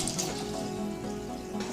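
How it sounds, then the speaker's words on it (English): Water poured into a pot of dal and raw mango pieces with slit green chili, a short steady splashing stream close by with no talk. "To this I'll be adding around 3 cups of water."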